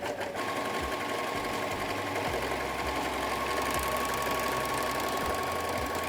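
A Brother 3034D overlocker runs steadily while stitching and trimming fabric, its fast mechanical whir close up and continuous throughout, with no voices over it.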